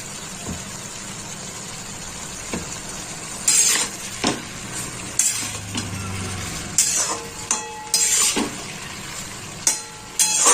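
Soft ash gourd, cooked down in its own released water with salt just added, is stirred in a pan: repeated scraping strokes of a spatula over a steady low sizzle, fairly close, with no voices.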